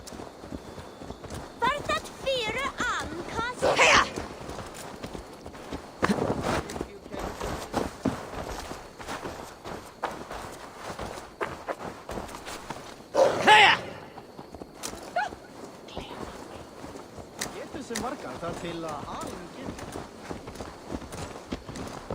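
Horse hooves clip-clop in Assassin's Creed Valhalla, with an irregular walking rhythm that runs throughout. Voices come in now and then, and a couple of louder hoof or movement bursts stand out.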